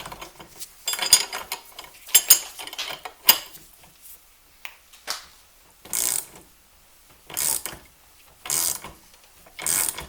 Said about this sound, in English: when you ratchet that in, the pulley comes out